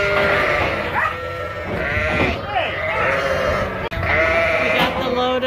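Lambs and ewes bleat loudly and almost nonstop, many overlapping calls up close as the flock is loaded onto a farm trailer, with no talking.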